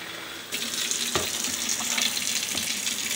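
Hot water from a tap pours into a 28-ounce bottle holding Downy fabric softener, starting abruptly after a short silence and then running as a steady, close hiss with faint gurgles.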